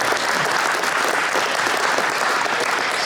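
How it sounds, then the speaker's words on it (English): Steady, dense applause from an audience at a school address, loud and continuous throughout with no talking. "please stand up and give them a round of applause."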